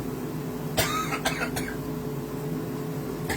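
A few short, sharp coughs from a person cooking chicken, yams and broccoli, set off by inhaling spices, break out close by over a steady kitchen hum.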